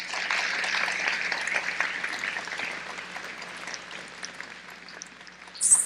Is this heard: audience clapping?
yes